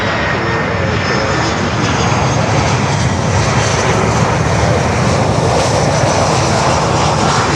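Broadband roar of a DHL Boeing 767 cargo jet coming in to land at Miami, a loud continuous rumble that holds steady throughout with no voices over it.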